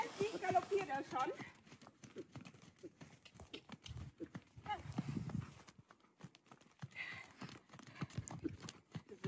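A ridden horse cantering, its hooves drumming in quick uneven clusters of clip-clop beats throughout, with a person talking over much of it.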